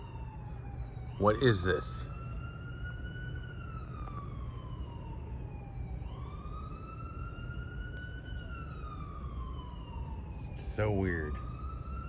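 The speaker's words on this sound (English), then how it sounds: "Now I hear more sirens." Sirens wail in the distance, rising and falling in long sweeps over a steady high whine, while a person speaks briefly nearby.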